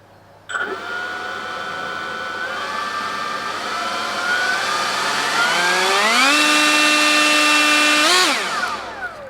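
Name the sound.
blower running at variable throttle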